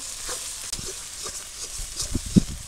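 Ground cumin paste drops into a pan of fried ginger-garlic paste for a village-style Bengali fish curry. A steady close sizzle is broken by soft stirring knocks and a louder thump near the end.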